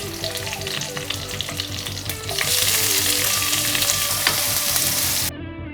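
Green chilli, curry leaves and chopped onion fry in hot oil, a steady loud sizzle that swells sharply midway as the onion goes in, with faint stirring clinks, then cuts off abruptly near the end.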